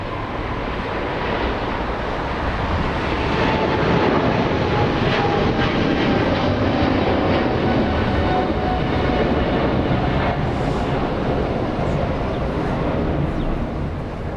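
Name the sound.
Philippine Airlines Boeing 777 with GE90 engines taking off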